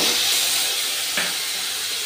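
Onion and garlic paste frying in a pan with oil, bay leaf and whole garam masala: a steady, loud hiss and sizzle that holds evenly throughout, with a small crackle burst partway through.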